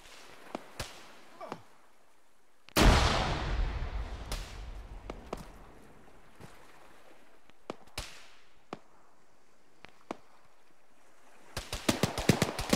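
A grenade in the Arma 3 military game detonates with a single heavy, booming blast that rolls off slowly, set among scattered sharp distant cracks and ending in a quick cluster of rapid snapping shots.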